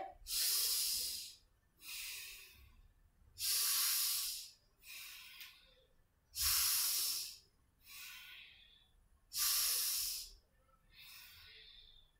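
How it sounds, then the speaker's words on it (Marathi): Deep yoga breathing during a simple full-body workout: slow, rhythmic, close-miked breaths, about eight in all, alternating a strong hissing breath with a softer one, with no talk. "मोठा श्वास घेतोय"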